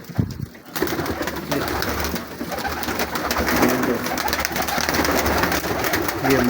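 A flock of pigeons coos continuously at close range, with many overlapping soft calls over a dense, busy background of fluttering and rustling.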